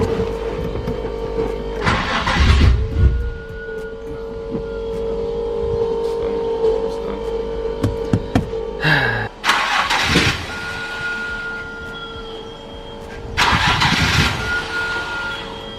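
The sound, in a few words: Nissan 350z turbo engine cranking, trying to start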